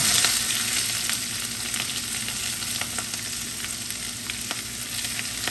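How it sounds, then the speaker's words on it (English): Onions hitting hot olive oil already fragrant with cumin, fenugreek seeds and chili peppers, giving a steady, close sizzle and crackle that holds evenly throughout with no talking. "and we're gonna throw in the onions"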